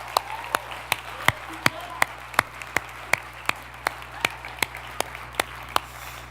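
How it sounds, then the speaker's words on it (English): A small audience at a football-themed event applauds with sparse, evenly spaced claps that sound like only a few people, fairly faint over a low steady background hum. "let's give a huge round of applause to Tyler Jones."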